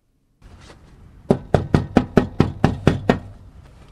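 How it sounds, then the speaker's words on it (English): Eight sharp, evenly spaced knocks rap on a house door, close and loud, preceded by a brief low rustle and with no talking. "We went and knocked on the Kelleys' doors."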